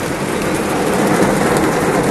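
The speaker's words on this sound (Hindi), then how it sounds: "मगर बारिश बहुत तेज है" Heavy monsoon rain pouring steadily, a dense loud hiss with no pauses, heard close by at a resort in Jim Corbett, India.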